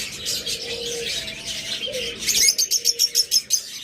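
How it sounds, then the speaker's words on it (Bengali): Budgerigars at a bird seller's chirp and warble in quick, bright bursts, with a run of rapid, rhythmic chirps near the end, fairly close and loud over a faint low background. "এছাড়া বাজরিকার পাখি রয়েছে অনেক"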